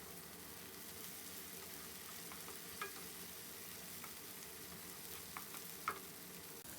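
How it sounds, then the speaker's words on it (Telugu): Onions with curry leaves and ginger-garlic paste fry quietly in a pan, a faint, even crackle with a few small pops and no talking. "ఇలా ఒక్క నిమిషం ఫ్రై అవనిద్దాము"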